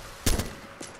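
Gunfire in the military shooter Arma 2: a sharp burst of a few shots at the start, a brief echoing tail, then a fainter single report near the end, with no talking.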